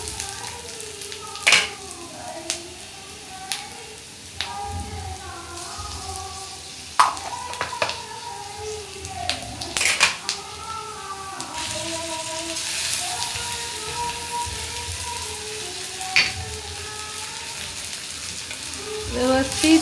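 Browned onion sizzles in a pan with chilli-garlic paste for baingan bharta, a steady close frying hiss punctuated by sharp clacks of stirring, while soft tonal music plays underneath.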